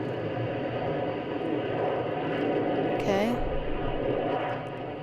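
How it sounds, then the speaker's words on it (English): An Emirates Airbus A380 airliner climbs away after takeoff with a broad, steady engine roar that holds its level throughout, and a voice briefly cuts in partway through. "Emirates A380"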